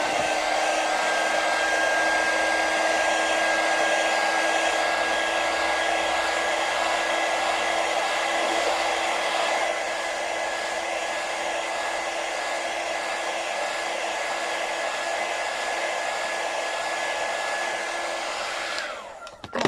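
A hair dryer blows in one long, steady, loud roar with a constant whine while drying a craft decoration, dipping slightly midway and cutting off abruptly at the end.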